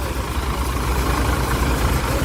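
A 35 hp farm tractor engine idles steadily nearby, giving a continuous low rumbling drone with no speech.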